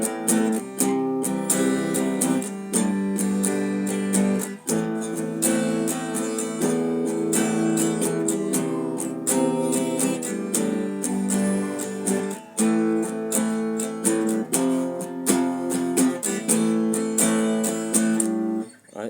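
Guitar playing a chorus, full sustained chords strummed in a steady pattern with brief breaks between phrases, close and loud, no voices.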